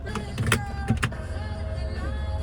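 Power window of a 2016 Honda Pilot EX-L running: a steady close electric motor whine holds through the whole clip, with a few soft thumps and knocks early on and no talking.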